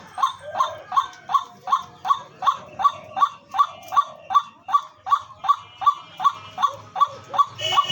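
Doves kept for sale call close by in a steady run of about sixteen short, repeated notes, roughly two each second, with a faint background murmur.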